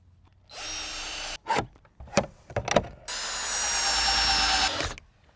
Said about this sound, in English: I'm just going to put a few screws in here and see if I can flatten this plywood down